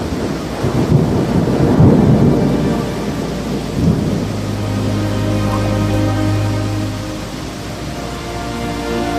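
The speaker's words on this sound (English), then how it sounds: "And then it began to rain." Heavy rain pours down steadily while thunder rumbles early on; a low steady hum sits underneath partway through.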